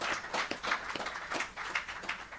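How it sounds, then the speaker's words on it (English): Audience applause for panelists at a financial reporting workshop in Pune, a steady wash of many hands clapping at moderate volume with no voices over it. "A big round of applause to all of them."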